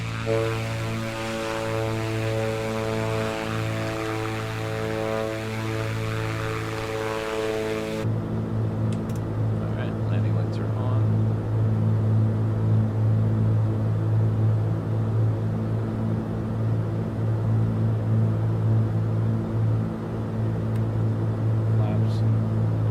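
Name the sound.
Black Square Grand Duke landing gear extending, from MSFS video game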